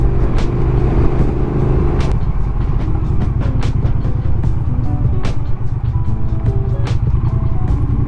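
A continuous loud Triumph Speed Twin 900 motorcycle engine rumble heard while riding, with wind noise and occasional sharp clicks and knocks over it.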